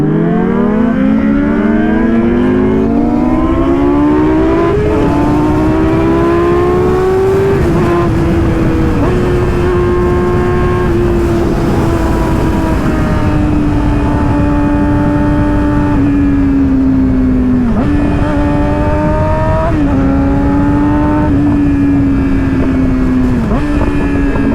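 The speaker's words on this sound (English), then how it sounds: "That H2 sounds nasty." The engine of a Kawasaki H2 motorcycle roars close by at a car meet and revs hard, its pitch rising and falling through repeated surges over a steady rumble, with wind noise throughout.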